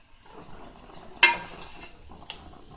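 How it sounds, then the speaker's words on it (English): A spoon scrapes and clinks against a pot of ugu vegetable soup simmering on low heat, with one sharp metallic knock and soft stirring noises, fairly quiet and close. "I'll just stir it a little bit."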